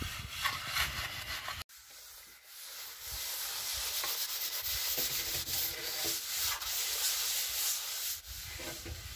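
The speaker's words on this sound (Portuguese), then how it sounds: "ele já começou a rebocar. É a última parede que faltava da casa" Mortar plaster being applied and rubbed onto the gable end wall of a house, a continuous gritty scraping and hissing with repeated trowel strokes, close and fairly loud, without talk.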